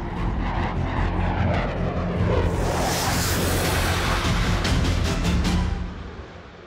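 A Rafale fighter jet engine roars loudly and steadily, swelling into a rushing whoosh midway before fading out near the end.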